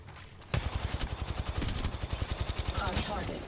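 Rapid automatic gunfire in a shooter video game bursts in after a short quiet start, then holds as a dense, loud, steady rattle of closely spaced shots to the end.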